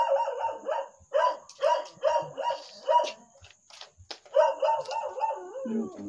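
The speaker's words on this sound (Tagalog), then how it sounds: "Merong aso dito." A dog barks in a run of loud, evenly spaced barks near an abandoned hundred-year-old ancestral house with cement flooring, pausing briefly before another burst that trails into a howl.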